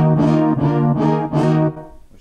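Chords from a Roland D10 synthesizer, triggered automatically by a Cthulhu chord plugin, play as four swelling stabs in a steady rhythm, loud and clear, fading out at the end with no voices.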